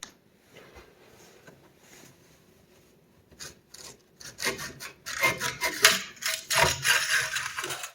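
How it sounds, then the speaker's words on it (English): Blower assembly pulled out of a wood burning stove, giving scraping, rubbing metal-on-metal drags and clunks that start quiet and sparse, then grow louder and busier toward the end, close to the microphone. "First thing I got to do is pull the unit out"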